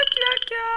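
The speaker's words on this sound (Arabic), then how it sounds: "ده صوت الضفادع" Frogs croak inside a house, giving a short run of buzzy, pulsing calls that shift to a steadier tone partway through, close and fairly loud.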